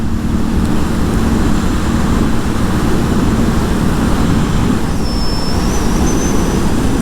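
A Kawasaki Versys motorcycle passes on a São Paulo street at night, its engine a steady broadband roar with a rising whine near the end, set in continuous city traffic noise and heard without voices.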